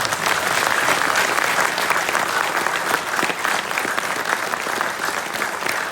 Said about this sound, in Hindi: आप फिर एक बार ताली बजा सकते हैं